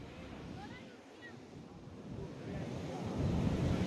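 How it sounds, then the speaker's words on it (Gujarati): Strong evening wind buffets the microphone at a beach near Dwarka as rough sea waves surge and break, the roar building louder toward the end. "મોજા આજે લગભગ રોજ કરતાં વધારે ઉછળી રહ્યા છે"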